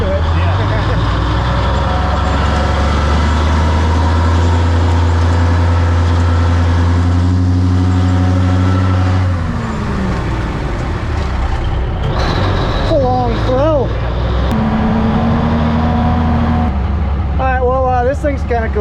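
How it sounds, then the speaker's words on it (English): A heavy diesel excavator engine cold-starting and settling into a loud, steady low rumble, with revving shifts and squealing, whining tones later on under occasional talk. "Just kind of cold starting the excavator."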